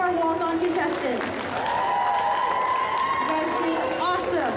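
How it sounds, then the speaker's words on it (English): Audience applause for walk-on contestants at a cosplay masquerade, a sustained wash of clapping and crowd noise beneath which a voice keeps talking through the whole stretch. "Let's get one more big round of applause for all of our walk-on contestants."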